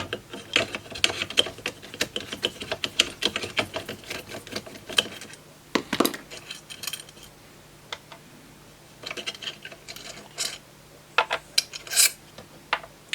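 A 3mm nut driver loosening a nut on a Creality Ender 3 V2 3D printer during a dual Z-axis upgrade gives close, intermittent clicks, taps and short scraping rasps, with brief pauses between bursts and no talking.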